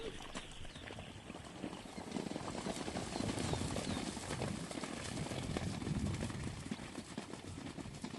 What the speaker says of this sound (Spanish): Los hombres están apurados reuniendo los caballos.